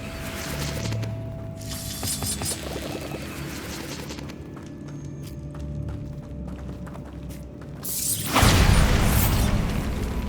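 A Bombarda blasting spell explodes in Hogwarts Legacy, a sudden booming burst near the end rising over a background of game music and rattling effects.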